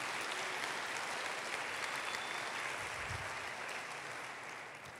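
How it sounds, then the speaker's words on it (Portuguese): Church congregation applauding steadily for several seconds, a dense continuous wash of claps that holds level then tapers slightly toward the end, with no talk over it. "Pode aplaudir ao Senhor por isso."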